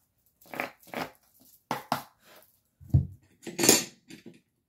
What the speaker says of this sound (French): Pardon pour le petit bruit avec ma coquille.